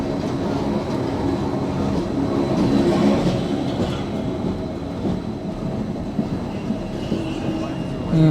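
Steady rumble of a train riding toward Zermatt in Switzerland, a continuous rolling roar with faint clattering wheels and some background voices throughout.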